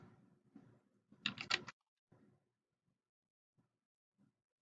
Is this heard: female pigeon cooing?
no